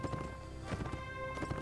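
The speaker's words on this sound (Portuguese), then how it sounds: "Cavalo meu também tá mais manco que o cavalo da Joelma" Horse hooves clip-clop in a quick galloping rhythm in the medieval combat video game Mount and Blade Warband, the footfalls fairly close and moderately loud under faint game ambience.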